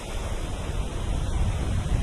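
Ocean surf near pontoon and banana boat rides, a steady broadband wash of waves and wind rumble that holds at a constant level throughout, with no voices.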